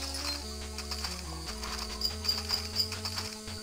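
Horse hooves in a fantasy online role-playing game, soft clip-clop steps over a steady low synth music drone, with a few faint chiming effects and no neigh clearly standing out.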